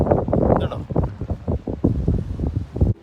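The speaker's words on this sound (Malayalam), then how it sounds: "അപ്പോൾ കാറ്റാണ് കാറ്റ് കാരണം" Wind gusts across a seaside fishing ramp where people are fishing, rumbling in the microphone as a low, uneven roar beneath a voice.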